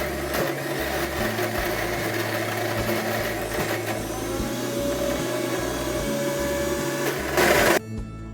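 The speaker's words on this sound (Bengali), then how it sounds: "ভালো করে ব্লেন্ড করে নেব।" An electric mixer grinder blends kebab paste at home, whirring loudly and steadily with a rhythmic low churning before it abruptly stops near the end.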